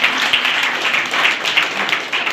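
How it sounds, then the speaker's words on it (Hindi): An audience at a school class event for graduating students breaks into loud, sustained clapping, a dense, even wash of applause close by with no voices. "जोरदार ताली बजाइए"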